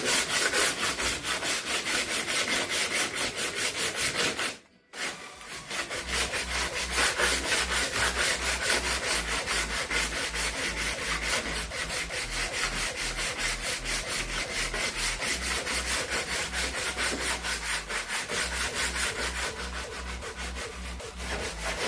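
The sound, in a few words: sanding with a sandpaper block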